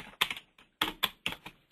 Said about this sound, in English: All you have to do, just type it like normal.